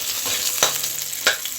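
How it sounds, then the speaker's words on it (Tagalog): Corned beef frying with plenty of onions in a hot pan for breakfast, a steady close sizzle with two sharp crackling bursts and light stirring, no voices. "tayo naman po ay nagluluto ng corned beef. Madami pong sibuyas."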